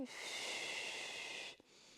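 Steady audible yoga breathing held during a side stretch, one long sustained breath lasting most of the moment and then easing off, close and fairly soft.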